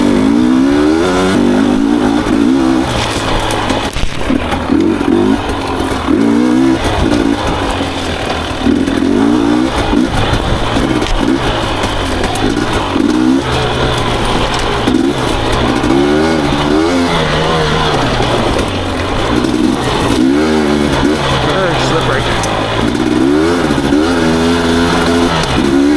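Beta enduro motorcycle engine, already running and revved repeatedly in short blips, loud and close, with a rough, pulsing idle between the rises.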